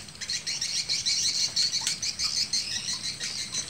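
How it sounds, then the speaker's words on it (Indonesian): High, rapid chirping calls of night birds fill the air continuously, mixed with insect-like trilling in a quiet outdoor night setting during night fishing. "banyak suara burung, burung malam-malam, burung tegundun."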